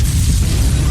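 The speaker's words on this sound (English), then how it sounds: "your house explodes" A deep, sustained rumbling boom of a house explosion with a dense low-end roar, loud and continuous like the aftermath of a large blast.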